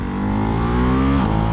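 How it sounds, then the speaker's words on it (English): A Ducati Hypermotard 698 Mono RVE single-cylinder motorcycle engine revs loud and close, its pitch climbing steadily under throttle and then dipping briefly near the end. "The sound is a little different, right? Because it's a single cylinder bike."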